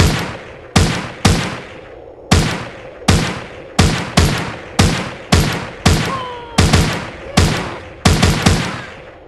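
Gunfire in The Walking Zombies 2 video game: about a dozen sharp, loud shots spaced irregularly over several seconds, each with a short decaying tail, with no talking.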